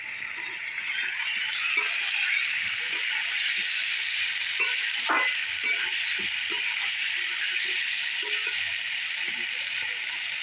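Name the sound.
potatoes frying with ginger, garlic, onion and cumin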